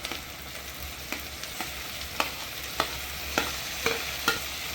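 Onions for chicken salna sauté in a pan, giving a quiet, even sizzle with a regular series of sharp clicks as a spatula stirs them, without any talk.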